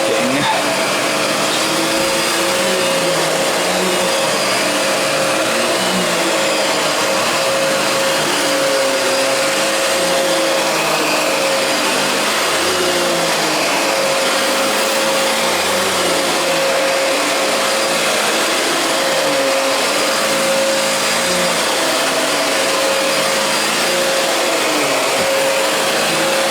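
A Fantom Cyclone XT cyclonic vacuum cleaner runs loud and close without a break, a steady roaring whine with a fixed tonal hum and a slight wavering in its motor pitch.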